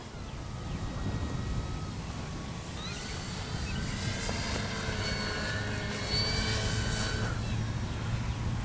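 E-flite Timber SE radio-control plane flying outdoors on a once-calm day, its electric motor a steady whine that rises and shifts in pitch as it passes, with wind rumble underneath throughout.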